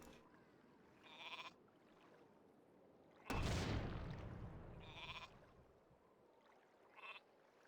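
Sheep in the Warcraft III video game bleat in short bursts about every two seconds, with a loud explosion-like burst in the middle, all without voices.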